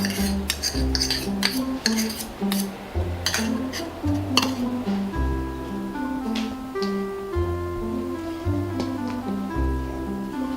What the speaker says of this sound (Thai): ช้อนคน แล้วก็เทลงไปเลย